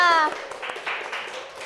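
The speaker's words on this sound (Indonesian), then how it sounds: "Tepuk tangan buat kita semuanya." A classroom group claps briefly and close by during a microteaching lesson, just after a voice calls out.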